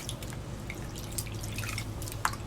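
Water drips quietly into a tub while a silicone baby doll is bathed, with scattered individual drops over a faint low hum and one sharper drip near the end.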